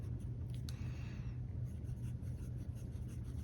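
A Pilot Kakuno fountain pen with a fine nib writes on paper, giving soft scratchy strokes in a close, quiet run over a low steady background hum.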